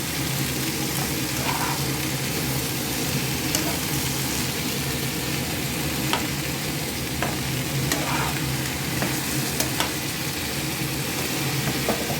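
Salt being stirred into a potato and green papaya curry in a pan, a steady close sizzle with scraping spoon strokes and occasional sharp clicks throughout, no voices.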